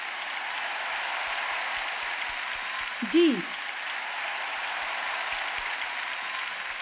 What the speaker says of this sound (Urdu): آپ مجھے یہاں دیکھ رہے ہیں اور سب تالیاں بجا رہے ہیں